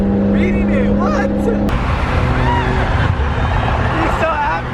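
A high-powered BMW M3 drift car, over 700 horsepower, races and roars past at close range with a loud engine, tire noise and a brief squeal, while excited voices talk over it.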